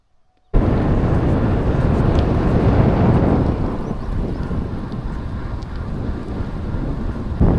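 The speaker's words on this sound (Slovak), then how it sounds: "Neviem, či ma budete počuť kvôli vetru" Wind buffets the microphone of a cyclist riding through Serbia, a loud, rough, continuous low rumble that starts abruptly and keeps roaring, easing slightly partway through.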